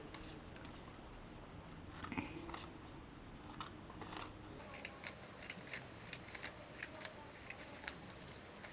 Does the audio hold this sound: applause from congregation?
no